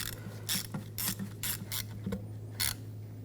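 A ratchet wrench tightens a bolt on a turbocharger of a 2004-2009 Audi A4 Quattro 2.0L, giving several close, rhythmic bursts of clicking over a steady low hum.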